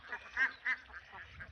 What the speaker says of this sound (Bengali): এই যে দেখেন, প্রায় অর্ধেক হাঁস আমার নেটের বাইরে চলে আসছে